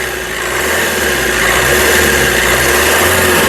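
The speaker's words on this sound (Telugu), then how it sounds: "ఒకసారి కారు రేస్ చేసి మీకు నాయిస్ అనేది వినిపిస్తాను" A 2018 Maruti Suzuki S-Cross Alpha engine runs loud and close, a steady droning hum that rises slightly as it is revved and then holds evenly, with no talking.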